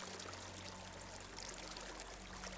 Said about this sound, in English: listening to this water sound